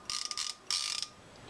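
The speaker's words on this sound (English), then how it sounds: "That's the release without doing this on the bait feeder." A fishing reel's bait feeder being released, giving two short bursts of quick, faint mechanical clicking separated by a brief pause, close and quiet.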